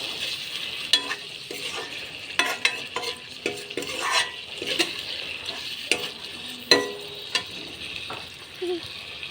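Pumpkin and chicken fry in a pan while a spatula stirs them, producing a continuous moderate sizzle broken by repeated scraping and clinking strokes.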